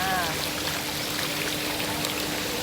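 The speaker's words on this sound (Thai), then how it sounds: "นี่ก็จะเป็นน้ำพุ" Fountain water at a cafe garden in Khao Yai, Thailand, splashing in a constant, dense rush that fills the whole stretch, with a faint voice at the very start.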